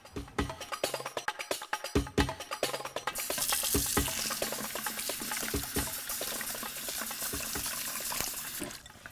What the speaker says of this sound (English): So I'm just rinsing our cup of fine bulgur wheat for the finale dish